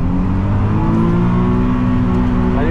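A drift car's engine revs hard and continuously on a wet track, a loud, steady close-up drone with rising and falling pitch as third gear is held through long slides.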